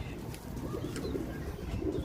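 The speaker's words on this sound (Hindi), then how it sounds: "सियालकोटी छत वाला कबूतर" A Sialkoti rooftop pigeon coos softly and repeatedly nearby, with faint chirps and a low murmuring background.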